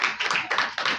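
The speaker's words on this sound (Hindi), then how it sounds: "मेरी पहली तालियां बजा दो" Short burst of clapping from a classroom or church audience during a Bible lesson, a few quick uneven hand claps close by with no talking.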